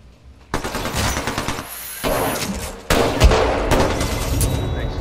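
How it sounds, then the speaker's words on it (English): Hemlock rifle gunfire in a video game, heard as loud, dense bursts of shots that come in three surges across the clip, with booming low-end punch and no talking. "I was firing in the same direction as you."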